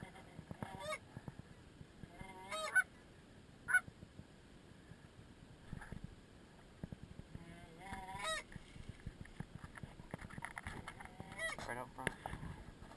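Geese honk during a goose hunt in repeated bursts, some near and some farther off, with people talking quietly in between.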